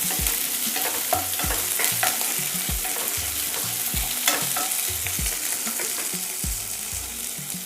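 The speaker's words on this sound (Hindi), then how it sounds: "इस सबको चला लेंगे हम।" Stirring garlic and ginger in a sizzling frying pan for green pea parathas, a utensil scraping and clacking against the pan in an irregular rhythm over steady crackling oil, close by.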